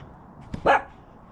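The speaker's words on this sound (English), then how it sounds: "She's probably going to bark the whole time." A dog gives a single sharp bark, preceded by a faint yip, close by in a quiet workshop where old machinery is being cleaned of rust.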